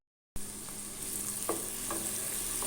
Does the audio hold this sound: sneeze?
no